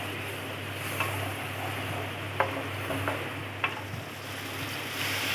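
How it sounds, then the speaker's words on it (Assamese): Ginger, garlic and mustard paste fries in oil for an Assamese mustard fish curry: a low, steady sizzle with a few sharp knocks of a spatula against the pan as it is stirred. "আদা নহৰু আৰু সৰিয়হৰ পেষ্টখিনি দি দিছোঁ আৰু ভালকৈ গোটেইখিনি 2-3 মিনিটমান সময় ভাজি ল'ম"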